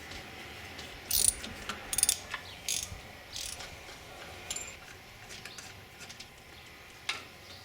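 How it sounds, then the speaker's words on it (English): Ratchet clicking in short bursts while 10mm bolts are loosened on the EGR valve of a Dodge Cummins diesel engine, close by and fairly quiet, with brief pauses between the clusters of clicks. "To take off the EGR valve, it looks like I just need to remove a vacuum line and a few 10mm bolts."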